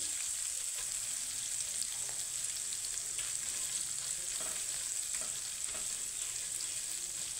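Steady crackling sizzle of food frying in a hot pan, with occasional soft stirring, continuous and close.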